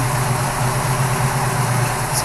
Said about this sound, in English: Is it idling? Yeah.